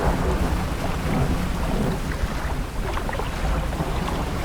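Steady heavy rain with low rumbling thunder and gusty wind fills the scene in the fishing game DREDGE, a dense, loud, continuous wash with no voices.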